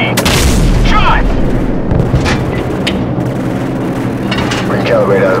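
AC-130 gunship cannon fire in the Call of Duty 4 video game: heavy booming blasts with rumbling echoes at the start, followed by distant thuds, mixed with radio-style voices.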